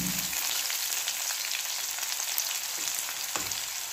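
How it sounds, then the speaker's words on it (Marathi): Onion frying in a pan with curry leaves for a potato bhaji, a steady close-up sizzle throughout with a few faint scrapes of a spoon, no voices. "कढीपत्ता टाकल्यानंतर त्यामध्ये मी कांदा टाकणार आहे।"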